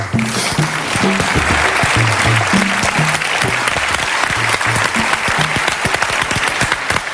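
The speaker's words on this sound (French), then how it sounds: "Je vous demande d'applaudir Michel Firmin, s'il vous plaît." Television studio audience on a French talk show applauding a guest joining the set, loud dense clapping throughout over soft background music.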